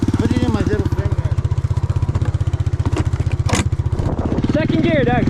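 A three-wheeler engine chugs with a steady rapid pulse while it is ridden in snow and shifted into second gear, with the revs rising and dipping. The engine is close and loud, and people talk over it.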